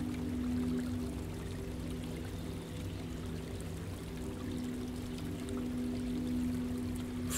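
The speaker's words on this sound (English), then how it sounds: "but not before it falls and tumbles down a series of stepped stones, creating the most lovely water feature." Water tumbles down a series of stepped stones in a garden water feature, making a soft, continuous splashing and trickling wash that stays even and fairly faint the whole time, with no voices.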